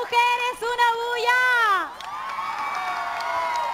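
Women in a concert crowd in Lurín whoop and scream together, a loud wave of high cheering that swells and then trails into a sustained roar of crowd noise.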